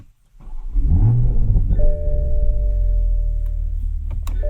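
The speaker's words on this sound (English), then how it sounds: "So let's start the car up." A 2021 Toyota Supra 3.0 starts up: a brief starter whir, then the engine catches with a loud flare and settles into a steady, deep idle rumble close by.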